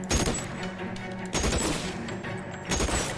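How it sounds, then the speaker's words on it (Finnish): Rapid gunfire in the video game LA Noire crackles in dense, repeated volleys, loud and close, with a few heavier bursts. "Ammutaan, jos sais vähän liikettä jalkoihinsa."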